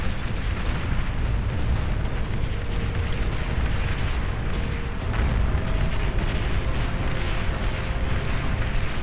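Artillery explosions in the strategy game Beyond All Reason, a dense continuous rumble of booms and blasts that stays loud throughout with no letup.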